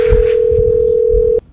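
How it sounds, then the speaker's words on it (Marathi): A steady telephone dial tone hums loudly while a call is placed, then cuts off abruptly with a click; low background noise beneath. "चाल लाव फोन. फोन लाव त्याच्यात."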